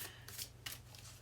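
Tarot cards are shuffled quietly up close in a few soft, papery riffling bursts separated by brief pauses.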